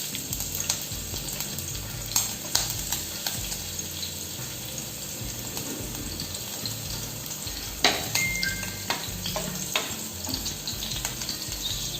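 Chopped garlic and green chilies frying in refined oil, a steady close sizzle with occasional stirring clatters and scrapes, no talking.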